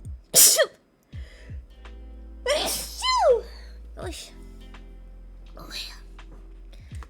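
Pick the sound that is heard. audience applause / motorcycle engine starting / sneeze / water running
sneeze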